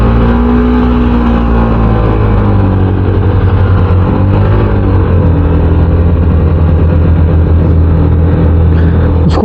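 A Hero Xpulse Pro motorcycle with burnt clutch plates, heard close from onboard, its engine droning loudly and steadily while the revs rise slowly as it labours to pick up speed.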